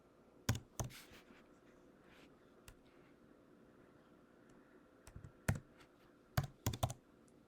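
A web address being typed on a computer keyboard: a few sharp, close key clicks in short clusters, separated by quiet pauses, with no talking.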